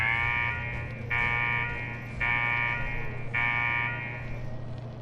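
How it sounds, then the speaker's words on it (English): An alarm in Fallout 4's Nuka-World area sounds three long, loud buzzing blasts with short gaps between them, over a low steady hum. "What the hell is that alarm? What's that noise?"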